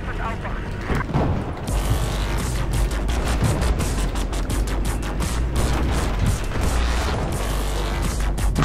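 Gunfire and booming blasts during tank warfare in the video game Battlefield 4, a loud, continuous run of shots and explosions with players talking over it.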